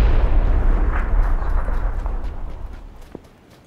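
A grenade blast in a shooter game booms loud and close, its low rumble fading away over a few seconds with no voices over it.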